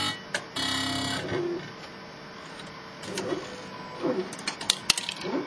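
A robotic R-Quest disc printer drops a finished disc into its hopper and rotates it: an early motor whir, then mechanical clicks, clunks and whirring movements, close and moderately loud, with no talking.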